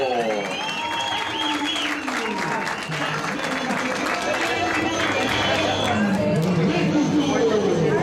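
A crowd at a boxing weigh-in claps and cheers steadily and loudly for a female world champion fighter, with an announcer's voice carrying over the applause.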